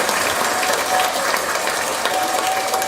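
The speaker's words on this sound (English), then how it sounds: "Give G a round of applause." Loud, dense clapping and cheering for a podcast guest named G, a continuous hiss-like wash of applause with no pauses, sounding close and somewhat compressed.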